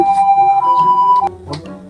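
An ambulance siren sound effect in a comedy short, a loud steady wailing tone holding for over a second before cutting off into softer clatter.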